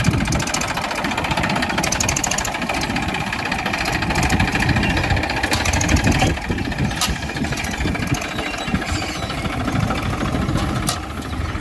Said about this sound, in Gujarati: મિત્રો આપણે બીજા ખેતરે જઈએ છીએ હવે ટ્રેક્ટર લઈ